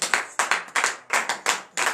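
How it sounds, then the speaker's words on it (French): A church congregation at a morning prayer service claps in loud, steady rhythmic acclamation, close and full, with regular beats and no voices over it. "Donnez de vives acclamations l'Éternel."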